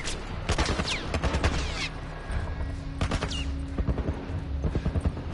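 Gunfire in The Last of Us, played on Grounded mode, cracks out in quick bursts of sharp shots, clustered in rapid volleys between short pauses, mixed with game clatter.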